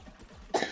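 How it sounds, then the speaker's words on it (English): A person gives a single short cough close to the microphone while playing the shooter game Plants vs Zombies Garden Warfare 2. It is a quick, sharp burst following near-silence. "Sorry about the coughing."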